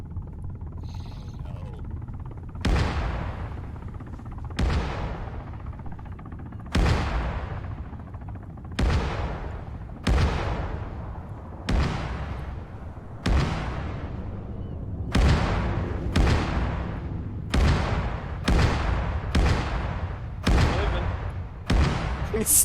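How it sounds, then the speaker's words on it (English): Simulated airstrike explosions in Arma 3 on Stratis, a long series of about a dozen heavy booms with decaying rumbles, spaced a second or two apart and growing more frequent, loud and close. "This is to simulate the airstrikes."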